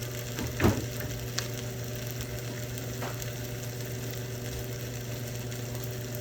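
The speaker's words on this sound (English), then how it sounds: "Let that fry up in there. Butter on the bottom." Rice frying in butter in a pan gives off a steady, soft sizzle throughout, with a brief clatter near the start and a faint scrape later, and no talking.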